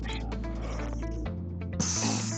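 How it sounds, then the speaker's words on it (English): Air hisses out of an exercise ball through its open plug, a close steady rush that shifts in tone midway and brightens toward the end, with no voices. "that's the sound of the air rushing out of the exercise bowl"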